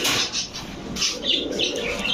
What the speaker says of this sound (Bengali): এগুলো হচ্ছে ডিগবাজিওয়ালা কবুতর রাজশাহী